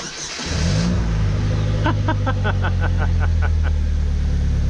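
A Polaris Slingshot engine cranks and catches, then settles into a loud, steady idle close by, with a rapid series of ticking clicks over the running engine and no talking.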